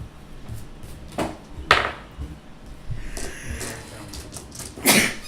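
A couple of sharp, breathy bursts, one stronger near the end, like a sneeze close to the microphone amid light clatter.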